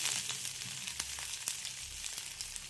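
Chopped onions and a sprig of curry leaves fry in hot oil, making a dense, steady, bright sizzle with faint crackles throughout; no one talks.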